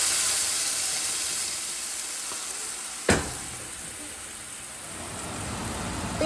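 Onion and tomato paste hits a hot pan and sizzles loudly in a broad, constant hiss, with one sharp knock near the middle; no speech.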